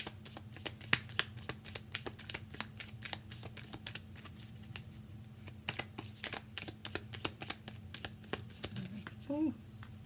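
Island Time Wellness oracle cards being shuffled, a steady run of quick crisp riffling clicks over a low background hum, with a brief voice near the end.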